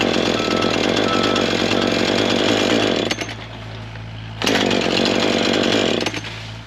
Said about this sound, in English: So if you're having trouble with your saw starting, if you do that right there, put it up and then just take it right back off.